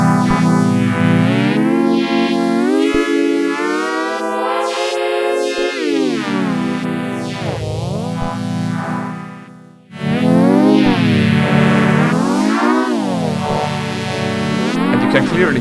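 A loud, distorted synthesizer lead from Reason's Europa synth plays sustained notes whose tone sweeps and wobbles under the mod wheel, briefly dipping quiet before swelling back.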